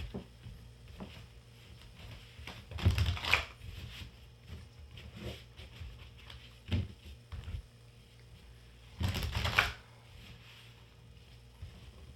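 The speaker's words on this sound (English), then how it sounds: "I'm being told to shuffle 3 times." Two short bursts of tarot cards being riffled and shuffled, a few seconds apart, with quiet soft tapping and handling between them.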